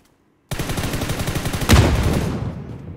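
Explosion and rapid gunfire in the mobile battle royale game PUBG New State on a ROG Phone 5s Pro, sustained loud shooting with a heavy grenade blast near the middle, no talk.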